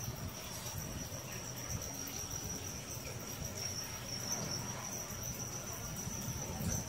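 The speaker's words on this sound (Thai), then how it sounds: "ิ้งหรีดอายุ2 วันนะครับออกจากไข่เมื่อวาน" Two-day-old crickets fresh from hatching keep up a constant thin, high chirring drone, faint and steady over a low rustling background, with no voices.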